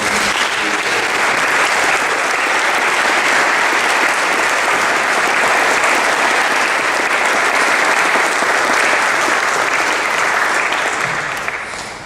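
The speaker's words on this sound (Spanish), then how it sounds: "la solicitud de que aplaudiéramos al doctor Gema." An audience at a lecture applauds in a dense, steady wash of clapping that holds loud and even for about eleven seconds before tapering off at the end.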